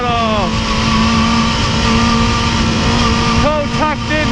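A motorcycle engine howls at full throttle on a track, loud and steady, with pitch dropping and rising near the end as the rider brakes and shifts, close up under some wind.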